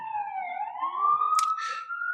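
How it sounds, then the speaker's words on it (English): A single police siren wails nearby, a clear rising tone that sweeps upward and holds, with brief bursts of noise near the end. "let me wait for the police sirens to finish passing."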